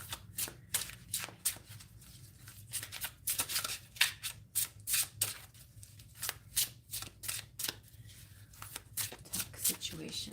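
Playing cards are shuffled by hand, a quick series of crisp riffling bursts in an uneven rhythm, close and moderately quiet over a faint low background hum.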